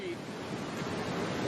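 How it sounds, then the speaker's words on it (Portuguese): Meltwater pouring down through a hole in an ice sheet, a steady broad rushing roar like heavy surf, continuous and fairly loud for a brief moment. "A água está perfurando a camada de gelo."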